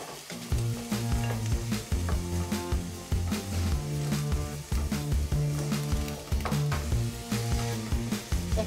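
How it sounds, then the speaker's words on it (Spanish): Chopped onion sautéing in a hot pan for stuffed cannelloni with jack mackerel, a dense steady sizzle running continuously under kitchen background sounds, with no talking. "comenzamos entonces a sofreír nuestra cebolla"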